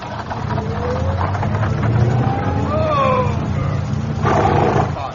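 A car approaching on a road in a radio drama: a loud, continuous engine roar that swells and surges, filling the scene with rough noise and no clear speech.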